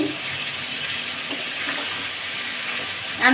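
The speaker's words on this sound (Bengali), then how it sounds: "এটা ভাজা মুরগি" Fried chicken for chilli chicken in a home kitchen pan, giving a steady, moderate broadband sizzle throughout with a faint clatter near the end and no talking.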